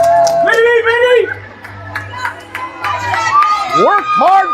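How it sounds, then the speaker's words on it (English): Crowd at a youth hockey game cheering after a power play goal, a steady roar of voices with shouts and whistles running under an excited announcer talking close by. "Crowd is roaring."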